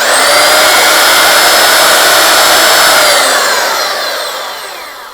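Makita M9400 belt sander running steadily on clamped pallet wood, a continuous loud whining hum with a dense high-pitched drone that holds level, then begins to wind down and fade toward the end.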